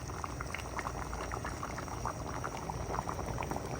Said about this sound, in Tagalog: Pakuluan lang po natin.